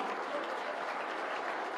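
A crowd at a ragi malt programme launch for government school children applauds continuously, a dense, even wash of clapping at moderate distance with no break.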